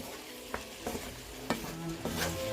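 Ground beef browns in a pan with a steady, close sizzle, while a utensil stirs and scrapes at a few irregular moments.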